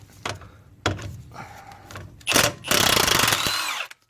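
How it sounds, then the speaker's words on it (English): An impact wrench with an 18mm impact socket loosens a bolt on a 2005 Jaguar X-Type front wheel bearing job, giving short bursts then a sustained loud hammering rattle, with clanks between. "Again, I'm going to use my impact socket here."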